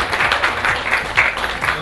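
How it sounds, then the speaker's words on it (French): An audience applauds, a brief burst of clapping from a crowd in a hall, steady and moderately loud throughout. "Des applaudissements s'il vous plaît pour Tadi Diallo que je vais accueillir ici."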